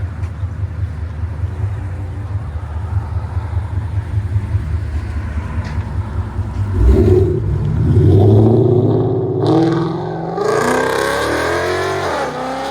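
A 2017 Ford Mustang GT 5.0L V8 with long tube headers, catless X-pipe and CNL axle-back exhaust rumbles at a loud, choppy idle, then revs up hard in several rising, roaring pulls.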